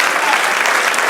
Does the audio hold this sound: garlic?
no